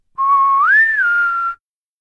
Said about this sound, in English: Can you whistle? No, I can't. Try again, like this.